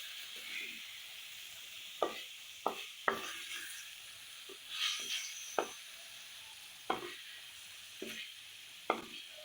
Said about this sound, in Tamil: இப்போ 5 நிமிஷம் ஆகிட்டு மீனை அப்படி திருப்பி விட்டுக்கலாம்.